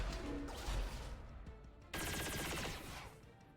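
Gunfire in XCOM Chimera Squad, a few heavy shots early on, then a sustained rapid burst of automatic fire near the middle that rattles on loudly for over a second before tapering.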